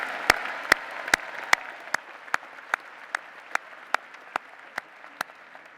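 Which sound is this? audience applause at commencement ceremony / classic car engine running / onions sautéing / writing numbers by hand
audience applause at commencement ceremony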